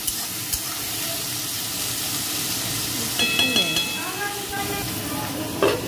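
Pointed gourd sizzling in a pan with salt and turmeric, a constant hissing fry with occasional spatula scrapes and clinks up close, and a faint voice in the background.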